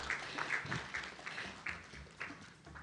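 Scattered applause from an audience at an International Women's Day gender-equality event, fairly faint and uneven, with a few distinct claps rising over a thin crowd of hands.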